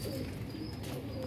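A pure white pigeon coos softly at close range. The low, faint cooing runs steadily through the short moment against quiet background hiss.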